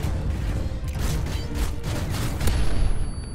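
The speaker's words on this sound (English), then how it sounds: "Flashbang" A flashbang grenade in Modern Warfare 3 goes off as a loud, dense blast of noise with crackling bursts, swelling again near the end and ringing on without pause.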